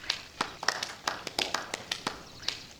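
A thin, scattered round of applause in the video game Beacon Pines: a handful of quiet, uneven claps spread over a few seconds at a low level.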